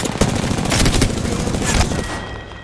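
Rapid automatic gunfire in the video game Apex Legends, a loud, close, continuous stream of shots over a noisy firefight that fades out toward the end.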